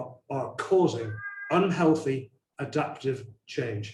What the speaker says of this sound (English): I've got a cat that's buzzing around. I'm sure you can hear it meowing